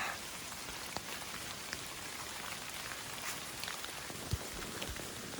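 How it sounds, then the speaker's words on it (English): Steady rain on the Appalachian Trail falling on surfaces, a dense, even hiss with occasional louder drips, continuous throughout with no talking. "You can hear the rain."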